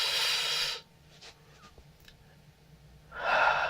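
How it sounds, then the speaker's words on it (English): Slow, deep belly breathing shown in a singing-technique lesson: a long, soft inhale-like rush after a loud broadband breath at the start, then a quiet pause with faint clicks, and another strong breath near the end. "breathing with their diaphragm or breathing with their belly"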